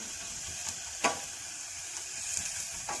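Garlic prawns sizzle softly and steadily in a hot pan, a continuous faint hiss with a few brief crackles and spits over about three seconds.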